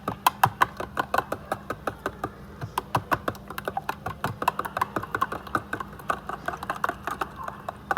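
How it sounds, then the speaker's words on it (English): Eggs with ham chunks, cheese, salt and pepper being whisked in a bowl make quick, regular clicking taps, close and steady from start to finish. "I'll add like ham chunks, maybe some cheese, whatever, and salt and pepper, and I'm just going to whisk this up"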